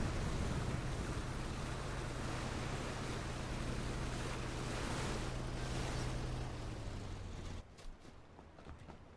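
A boat's steady low engine drone hums under a wash of rushing water and wind in the video game PUBG, ending abruptly as the noise drops away.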